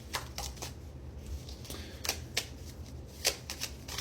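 Tarot cards are shuffled close up, giving soft riffling bursts and sharp snapping flicks in an irregular rhythm over quiet background.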